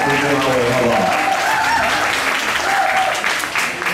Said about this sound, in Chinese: 可以给掌声欢迎